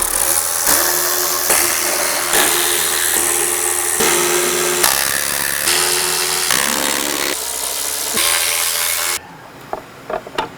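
A power driver backs out the T30 bolts of the chain case cover on a Ski-Doo 850 Summit snowmobile, with repeated close whirring bursts separated by short pauses before things fall quieter.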